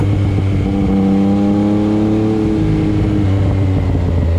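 Yamaha MT-09 motorcycles ride fast downhill through the curves of Doi Suthep, their engines droning loud and steady with rising and falling pitch, close and continuous.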